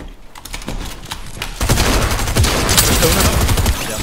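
Sniper gunfire in Fortnite Battle Royale, a few sharp cracks amid dense, busy game sound effects that swell louder partway through, with no talk.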